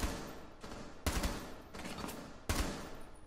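Bursts of automatic gunfire in the tactical shooter Rainbow Six Siege, three or four short loud volleys separated by brief pauses, heard close without any talk.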